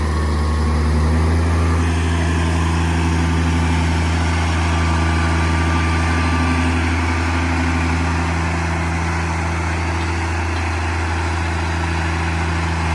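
A garlic harvesting machine's engine runs at a steady, loud, close drone with a strong low hum and no change in pace for the whole stretch, no voices over it.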